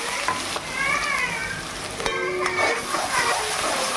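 Onion, garlic and ginger paste with panch phoron sizzles and fries in a pan, stirred, with a steady close crackle and occasional faint tonal squeaks over it.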